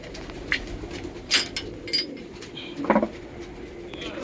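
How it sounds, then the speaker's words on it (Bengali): Pigeons in a net loft give soft, scattered coos and flutters over a low background hum, with a few brief clinks, fairly quiet and close. "এখনও পায়রা কিছু বসে আছে"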